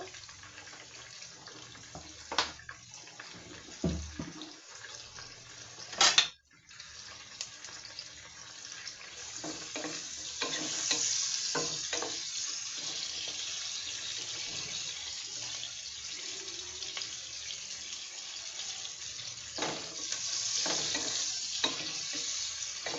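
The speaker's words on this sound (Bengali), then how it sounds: "পেঁয়াজটা ভেজে নিব। আর একটু তেল দিব।" Sliced onions fry in hot oil in a pan for chicken pulao, a steady sizzle broken by scraping stirs and a sharp clatter of the spoon, with no talking.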